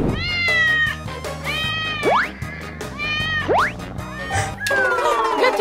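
Kittens meowing repeatedly, with high, rising and falling cries overlapping one another, fairly loud and close, amid some household clatter.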